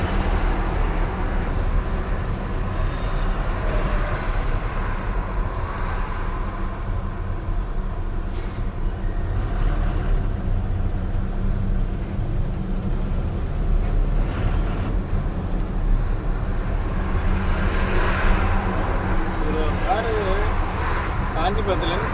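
Steady road traffic on a highway heading toward Chennai, with many cars queued in a jam, a continuous low engine and tyre rumble running throughout at fairly loud level, with faint voices over it.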